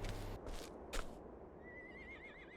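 Hoofbeats clop briefly, then a horse in Octopath Traveler 2 whinnies with a wavering, trilling call that trails off, fairly clear against a quiet background.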